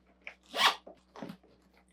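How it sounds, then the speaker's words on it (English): The expansion zipper on a suitcase made from recycled plastic bottles is pulled open, giving a close, quiet zip in a couple of short rasping strokes. "See this extra zipper? Just unzip it"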